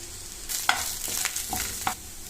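Cumin, bay leaf, cinnamon and cloves sizzle in hot oil for a beans curry, with a soft steady crackle and a few sharp clinks of a spoon stirring the pan, close up.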